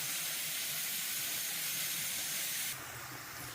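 Ingredients sizzling steadily in a pan while being sautéed, a close, continuous bright hiss that drops slightly in level near the end.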